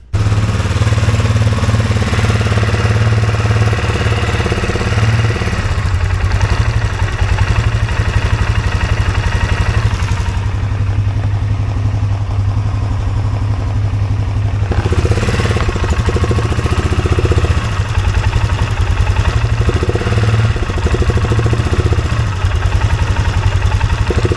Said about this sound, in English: Let's turn the quad on and let me push this back and see if that calms that idle down.